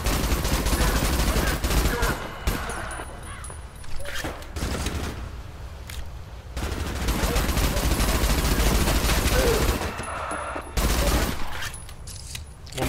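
Gunfire from the first-person shooter Adaca: dense, loud bursts of rapid shots and sustained fusillades, pausing briefly around the middle and again near the end before resuming.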